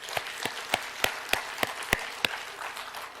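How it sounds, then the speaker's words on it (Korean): A small church congregation at a Sunday worship service claps in a sparse, slightly uneven rhythm of about ten distinct claps, moderately close and fairly soft, with no talking over it. "하나님께 영광의 박수를."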